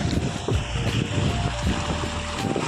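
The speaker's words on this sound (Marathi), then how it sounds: "तुम्ही मित्रांनो बघू शकता लाटा किती येऊ लागल्या" Waves surging against the shore of a dam reservoir, heard as a loud, continuous wash of rushing water and wind buffeting the microphone, with rhythmic swells rolling in close by.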